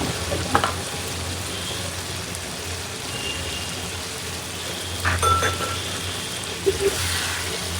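Fried green chillies dropped into a pan of nearly finished curry, a steady sizzling fry with occasional stirring clinks and brief bursts of louder spitting, heard close with no talking.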